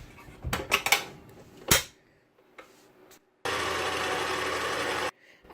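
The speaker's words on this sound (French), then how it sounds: "Et je vais ajouter les 2 œufs. Et nous allons mélanger." Two eggs being mixed into batter in a bowl: a few sharp clinks and knocks of a utensil against the bowl, then a steady, fairly loud mixing noise lasting about two seconds.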